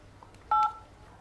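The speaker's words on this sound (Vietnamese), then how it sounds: "Các phím bấm cũng còn ok." A single short telephone keypad tone sounds as a button is pressed on a phone being checked after delivery, a brief clear beep over quiet background.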